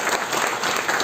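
Audience applause fills the hall at the inauguration of an international academic conference on AIAMMS at JECRC University, a steady, dense clapping that runs loud and unbroken for the whole moment with no voices on top.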